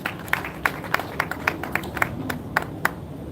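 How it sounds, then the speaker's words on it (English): A sparse scattering of hand claps from a small audience at a World Press Freedom Day honors night in a hotel, about a dozen separate claps over a few seconds, fairly faint, with no voices. "Please do a big round of applause"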